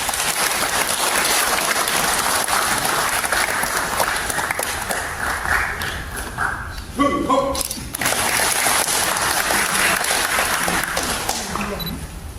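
Applause from the congregation at a Korean Christian memorial worship service for General Paik Sun-yup, a steady sustained clapping that fills the hall throughout, with a brief dip in the middle.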